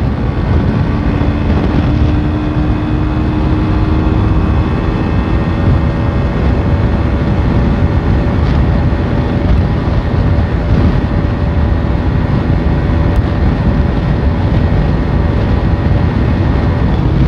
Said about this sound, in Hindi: बाइक 101 जा रही है भाई